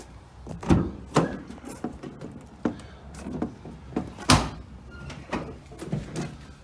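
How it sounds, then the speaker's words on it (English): A van door on a pressure washer van is opened, giving a series of knocks, clunks and latch clatters of varying loudness, close by, with no talk. "Okay, so what we'll do is we'll open the door."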